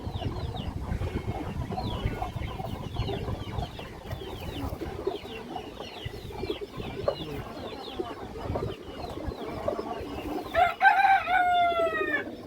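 Large Sap-chila pigeons at a pigeon seller's, low murmuring coos under a busy layer of small chirps from other birds, with a loud rooster crow breaking in near the end.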